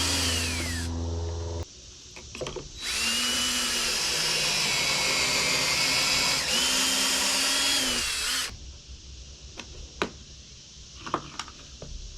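A power drill bores pocket holes in oak. A short burst of whirring comes first, then a longer, loud, high-pitched spell of drilling that rises and dips in pitch, followed by a few sharp clicks and knocks.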